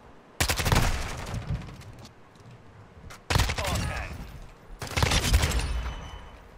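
Automatic gunfire from a Kastov 74u rifle in Call of Duty Modern Warfare II, heard as three loud, close bursts of rapid shots separated by short pauses, with a lingering battlefield rumble between them.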